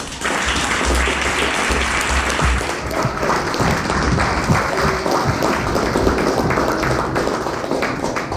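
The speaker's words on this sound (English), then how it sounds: "if we give the lads a round of applause" A crowd at a football team's end-of-season presentation gives the players a loud, sustained round of applause, many hands clapping densely and evenly throughout the clip.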